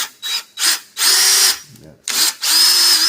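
A power drill bores out a bolt on a 1983 Suzuki ALT 125. The whine is close and loud, starting and stopping in short pulses before running in longer steady stretches.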